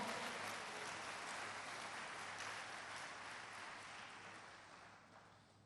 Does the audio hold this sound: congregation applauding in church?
yes